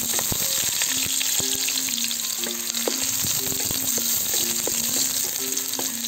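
Garlic and onion fry in a pan with a steady, dense sizzle, punctuated by sharp clicks and scrapes of a utensil stirring against the metal.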